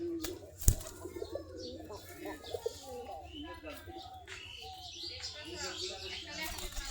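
Desi Giribaz pigeons coo softly in low, throaty murmurs, with a few faint chirps and one sharp knock near the start, all fairly quiet.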